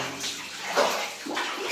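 Water being scooped by hand from a clogged drain, three wet splashing scoops spaced at a steady pace, close and moderately loud, with no talk.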